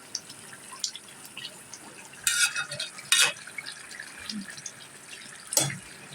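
A lid comes off a cooking pot and the contents get stirred, with a few short wet scraping bursts and faint drips standing out from a quiet, hissy kitchen background.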